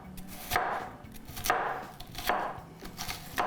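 Knife chopping an onion on a cutting board, about four firm, evenly spaced chops close up with faint background noise and no talk.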